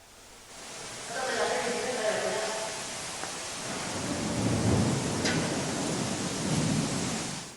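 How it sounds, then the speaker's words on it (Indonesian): A heavy thunderstorm with strong wind over the city of Bandung: a constant roar of pouring rain carries deep, rolling rumbles of thunder that swell and fade, with a faint voice briefly audible early on. "hujan deras disertai angin kencang mengguyur kota Bandung"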